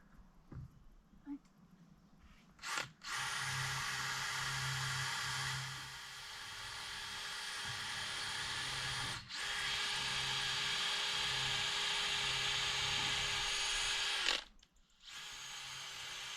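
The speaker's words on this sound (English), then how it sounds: "that's a brand new drill bit. Even that's struggling going through." A power drill fitted with a brand-new bit bores through wood while building cheap log storage, a loud steady whine straining for about twelve seconds, with a brief pause partway and the motor stopping abruptly near the end.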